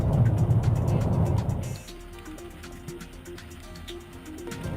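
A 2013 Mercedes-Benz E350 BlueTEC diesel drives on an empty canyon road, first with a loud engine and road roar, then easing to a quieter hum with faint ticking.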